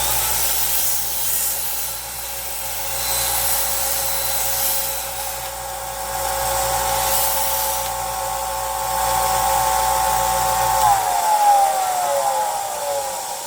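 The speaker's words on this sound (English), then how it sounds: "I'm going to turn the drill on, and I'm going to do a little shaping on the end of this drill bit" A power drill spins steadily while the end of a drill bit is shaped into a ball end against an abrasive, a continuous whining hum with grinding contact, its pitch sliding down near the end as the motor slows.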